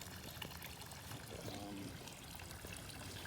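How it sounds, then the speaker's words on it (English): Water from a hose runs steadily into a backyard swimming pool being opened for the season, a faint continuous splashing trickle with no pauses. "Putting some water in the pool."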